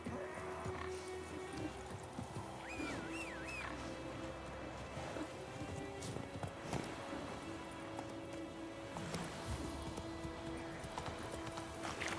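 Geralt's horse Roach galloping in The Witcher 3, steady rhythmic hoofbeats close by over ambient game sound, with a brief whinny partway through.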